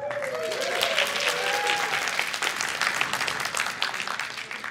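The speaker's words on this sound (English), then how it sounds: "Give everybody a round of applause." Warm applause from a sold-out crowd at a charity furry auction, steady clapping throughout with a few cheering voices rising above it early on.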